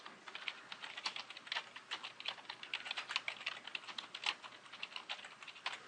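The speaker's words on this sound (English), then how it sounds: "as I type in the notes that help me remember what I want to say during this slide" Notes being typed on a computer keyboard: quick, irregular runs of close, light key clicks continuing throughout at low volume, with no speech.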